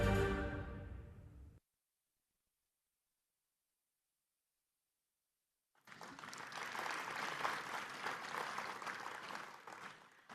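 Audience applause fills a lecture hall after a World Engineering Day talk: a dense, steady wash of clapping that rises after a few seconds of silence, following a short opening sound.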